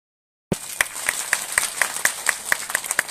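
Clapping from a gathering at a religious discourse on the Krishna story, beginning abruptly and then running as a steady beat of distinct, evenly spaced claps mixed with lighter scattered clapping, fairly close.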